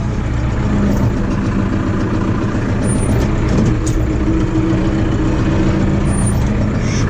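A loud diesel engine of an Erkunt tractor running steadily at idle up close, a deep continuous rumble with occasional faint high clicks and squeaks.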